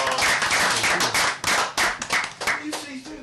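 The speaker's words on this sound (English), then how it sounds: "Round of applause." Audience at a pub quiz claps loudly and close by in dense, uneven bursts that thin out toward the end, with some voices mixed in.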